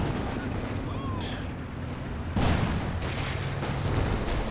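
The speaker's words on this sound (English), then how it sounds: "they do have the howitzer nearby, but oh, it's already just about ready to fire again." An Axis howitzer in Company of Heroes 2 fires with a heavy boom midway through, set against a constant din of battlefield gunfire and explosions while a commentator talks over it.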